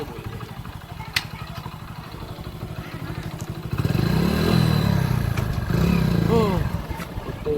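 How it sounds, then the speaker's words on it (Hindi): A small motorcycle engine runs and revs on a village road, a steady putter that swells louder midway, with clattering, a scrape and thuds, while people talk over it. "तो छोटी सी मोटरसाइकिल चल नहीं रही मेरे से।"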